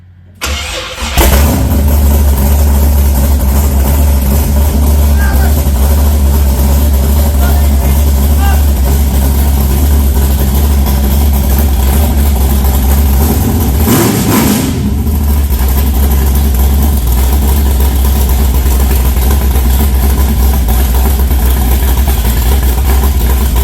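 A truck engine runs continuously at a steady, loud idle after a fuel wire fault is fixed, starting with a brief crank and catch at the beginning, with people talking over it throughout.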